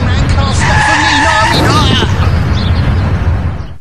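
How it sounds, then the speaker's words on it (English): A car skids hard on tires at about 40 mph before striking a child, a loud, continuous screech filling the whole moment and then fading at the end. "This is the sound of a child being hit by a car at 40 miles an hour."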